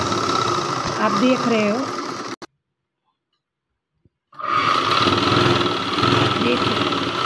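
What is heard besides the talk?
sewing machine stitching fabric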